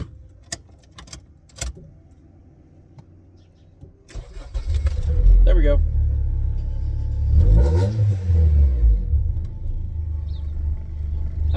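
An Acura Integra DC4 cranks with a few clicks and a key jingle, then catches and starts, its engine rumbling loudly nearby with a couple of revs rising and falling; a voice briefly speaks.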